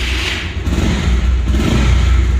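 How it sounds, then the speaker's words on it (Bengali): A Bajaj Pulsar motorcycle engine running steadily close by, a continuous low mechanical drone with slight revving swells and no talk. "বাইকটির সাউন্ড আপনি পালসারের যে অরিজিনাল যে সাউন্ডটা, সেই সাউন্ডটাই কিন্তু পাবেন।"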